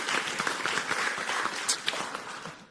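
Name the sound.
audience applause for team A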